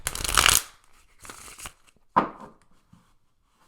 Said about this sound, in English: to just get a really, really good shuffle